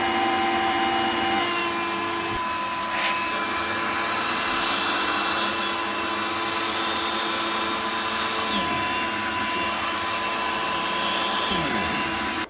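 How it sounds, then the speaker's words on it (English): A Vax Swift Turbo 1600 VS-193S corded vacuum cleaner runs continuously at a loud, steady whine with a droning motor hum, close by, with a few shifting tones as the airflow changes. "Wow, such a noisy hoover, honestly."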